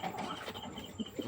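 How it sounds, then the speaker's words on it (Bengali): A racing pigeon gives a soft, brief coo, faint and close, over low background noise. "রেসার কবুতর আনলাম।"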